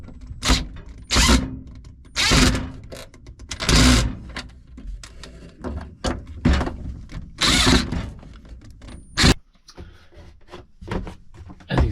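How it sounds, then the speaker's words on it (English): Screws driven into a fitting during DIY motorhome toilet repairs, heard as repeated short bursts of a whirring power driver close by, separated by brief pauses. "Just put the 3 screws in."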